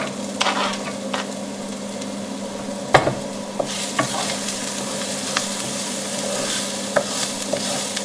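Garlic hits hot oil in a pan for a tomato and meatball sauce, giving a steady close sizzle with scrapes and taps as it is stirred.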